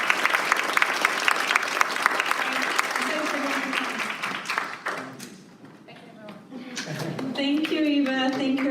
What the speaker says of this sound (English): I want everybody to clap.